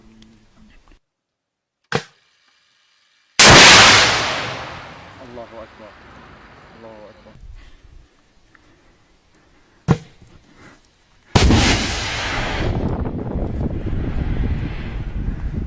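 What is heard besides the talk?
TOW missile launch and strike on 57 mm cannon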